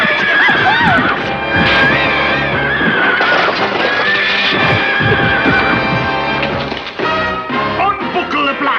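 Horses neigh and whinny in a cartoon about Black Beauty, the calls loud and close over a dense, busy soundtrack with hoof clatter and some voices throughout.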